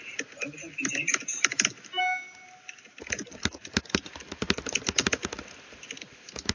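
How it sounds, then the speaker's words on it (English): Rapid clicking of keys on a computer keyboard, a dense irregular patter that grows busier in the second half, with a few tonal beeps early on and voices in the background. "He's typing"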